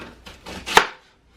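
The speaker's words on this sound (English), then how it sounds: "And then we're going to just cut it in chunks. Slice it this way." A knife chops through a peeled fava bean stew vegetable on a board, several quick close cuts ending in one firm thud, with no talking.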